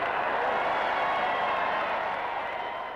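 Dense crowd noise from a large gathering in Whitehall outside the Ministry of Health as Churchill speaks from the balcony on victory day, a steady wash of cheering and clapping holding throughout, recorded at a distance.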